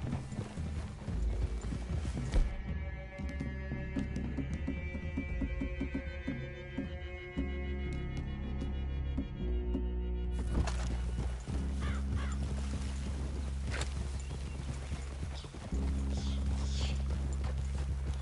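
Horses in the Red Dead video game walk with a steady, close clip-clop of hooves, joined by neighing and whinnying over a low background of ambient game sound.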